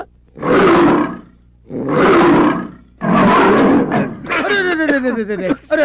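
Tiger roars in a Telugu comedy scene: three loud, drawn-out roaring bursts about a second apart, then a rising and falling strained vocal cry that sounds like a voice imitating the animal.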